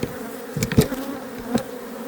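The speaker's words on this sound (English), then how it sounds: "Sheet of plywood, and right behind that plywood is a hive." Honeybees swarm from a hive hidden behind a sheet of plywood, giving a close, loud, continuous buzzing hum with a few louder swells as individual bees pass.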